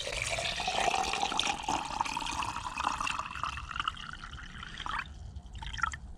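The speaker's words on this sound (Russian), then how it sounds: "Плюхнем туда обычной колодезной воды" Plain well water pours into a container for seedlings, a bright, splashing stream whose pitch rises as the vessel fills, then tapers off into a few last drips and splashes.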